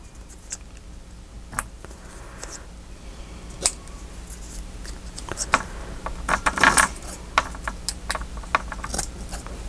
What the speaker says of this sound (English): Let's just cut around it.